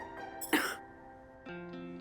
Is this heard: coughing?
yes